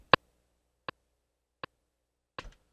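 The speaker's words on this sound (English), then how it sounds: "So you hear that knock sound there, which is a metronome click" Four sharp knocking metronome clicks from an Akai MPC One at an even pace, the first loudest, the last slightly doubled; nothing else in between.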